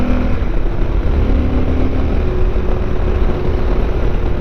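A Yamaha Super Tenere motorcycle rides along small backroads, its engine a steady, loud drone mixed with wind rush throughout, close and continuous, with no talking.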